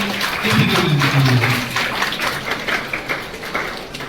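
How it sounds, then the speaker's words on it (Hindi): Applause from a school assembly for the speakers Dimpal and Rohit, a moderately loud burst of clapping that gradually thins out, with some faint voices underneath. "तो जोरदार तालियां हमारे डिम्पल सर के लिए, रोहित सर के लिए"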